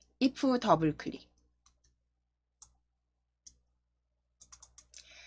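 A computer mouse double-clicks while working in an Excel spreadsheet, with a brief spoken phrase first, then several quiet, crisp clicks in pairs and small clusters against near silence.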